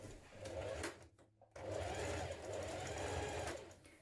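A sewing machine stay stitching across the top of a pleat on a Melba dress, running in a steady close whir, pausing briefly after about a second, then stitching on again, quiet and without talk.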